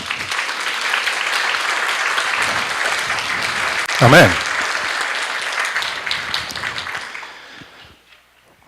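A church congregation applauds steadily and loudly, the clapping sustained for several seconds before tapering off, with a single voice calling out briefly in the middle.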